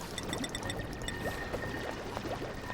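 Water released and flowing in Oxygen Not Included, a continuous pouring wash with small bubbling gurgles and faint tonal game ticks, steady and moderately loud, with no voices.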